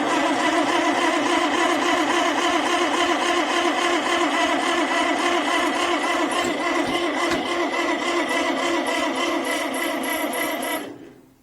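An old tractor engine cranks in the cold: a loud, close, steady rhythmic churning of the starter and labouring engine for about ten seconds, then it cuts out abruptly, with no talking.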